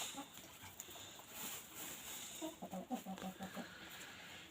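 Hens in a coop on a December evening give soft, repeated clucks, faint and fairly close, over a quiet, hissy background.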